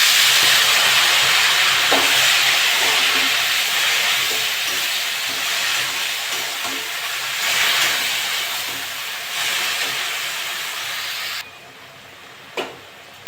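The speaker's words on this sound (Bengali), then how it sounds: "আমি এবার চাল কুমড়োগুলো দিয়ে দেবো" Ash gourd tossed into a pan of fried ginger for a prawn shukto, producing a loud, steady, steamy hiss that gradually fades, with a few faint clinks and a sharp knock near the end.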